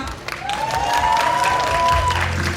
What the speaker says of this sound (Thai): ขอเสียงปรบมือกับคุณพัฒนาด้วยครับ